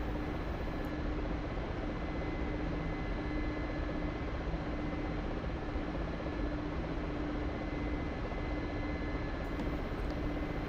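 Mi-24 Hind helicopter in the DCS flight simulator over Syria. A steady broadband rotor and turbine drone holds at constant loudness throughout with a low hum, heard from inside the cockpit.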